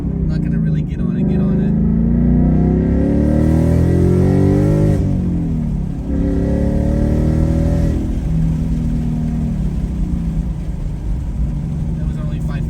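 A 2019 Mustang GT with a Corsa active exhaust accelerating through the gears, a loud deep V8 rumble rising in pitch, dropping briefly at a shift, then climbing again, with talk over it.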